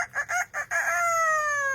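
A parrot mimics a rooster's cock-a-doodle-doo: a few short clucky syllables, then a drawn-out crow that slides downward. It is brief, clear and close, with no talking.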